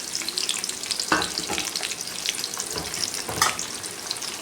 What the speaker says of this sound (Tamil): வெங்காயம் கருவேப்பிலையும் போட்டுட்டேன். வதங்கட்டும். வரமிளகாய் போட்டுக்கலாம்.